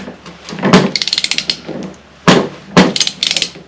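A large socket and ratchet tighten a nut on the starter of a 1935 Austin 7, with a few loud clunks and bursts of quick ratchet clicking close by.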